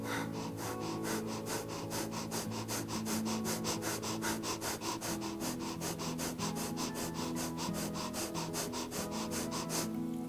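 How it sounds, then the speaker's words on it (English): Quick rhythmic yoga fire breaths forced in and out through the nose, a steady rapid series of short sniffing puffs running throughout at even tempo, close and clear over a soft background tone. "today we're gonna start with that fire breath"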